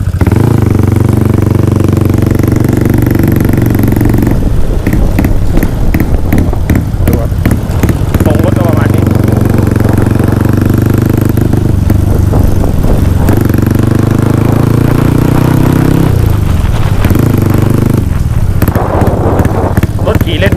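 A Honda Wave motorcycle with a 4-valve head and a retuned loud exhaust, crankcase cover cracked, idles with a deep throb and revs hard several times, close and very loud, with someone talking in between.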